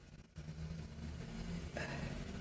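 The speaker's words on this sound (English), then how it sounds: "Sorry about the noise, the lorry's going past." A lorry passing outside a room where someone is sewing, heard as a low, steady rumble that swells slightly near the end, fairly faint and without speech.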